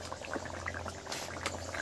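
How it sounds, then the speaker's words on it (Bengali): Potato and fish curry simmering in a pot, made with new potatoes and surma fish, with steady soft bubbling and gentle popping heard up close and quiet throughout. "এটাকে বেশ কিছুক্ষণ ফুটিয়ে নেব।"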